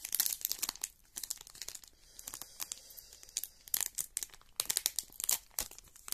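Pokémon promo card packaging is torn open and crinkled, sharp bursts of ripping plastic and crumpling in irregular clusters, close and crisp with no talking.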